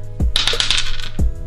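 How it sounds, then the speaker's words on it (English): Dice rolling across a hard surface: a thud, then about a second of close, rapid rattling clicks, ending in a final knock. "We're gonna start off this vlog with the dice again."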